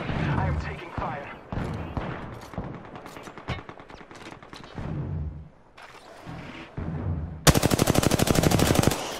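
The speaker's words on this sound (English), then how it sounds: "I am taking fire." Rapid gunfire in the Apex Legends video game, with bursts of shots throughout and a dense, loud sustained volley near the end, mixed with game effects and voices talking.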